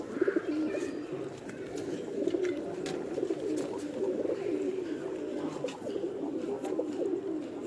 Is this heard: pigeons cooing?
yes